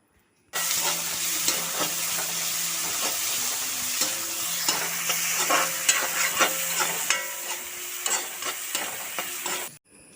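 Crushed shallots, garlic and curry leaves fry in a hot pan for a horse gram thoran while being stirred, giving a steady loud sizzle with repeated scraping strokes of the spoon and no voices.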